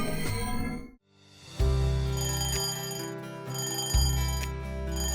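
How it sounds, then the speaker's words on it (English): A bright, metallic alarm clock rings loudly and steadily, cutting out for a moment before resuming with a strong, continuous jangle. "I sleepily looked at the loudly ringing alarm clock."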